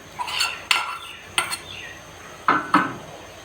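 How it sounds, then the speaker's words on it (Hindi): Mashed rice is scooped into a pot for sweet vermicelli rabri, making several sharp spoon-on-metal knocks and scrapes in irregular bursts, fairly close and alone. "और अब मैं ये मैश किए हुए चावल इसमें डालूँगी"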